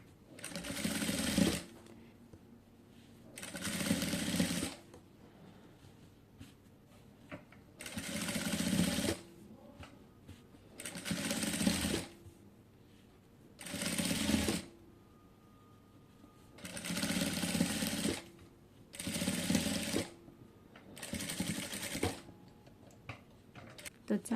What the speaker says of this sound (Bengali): এই চাপ সেলাইটি কিন্তু অবশ্যই হচ্ছে এখানে দিতে হবে।